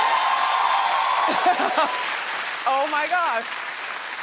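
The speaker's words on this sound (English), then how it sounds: "Clap if you think it is." A talk show studio audience claps as a continuous wash of applause while a voice speaks a short exclamation over it, the clapping fading slightly toward the end.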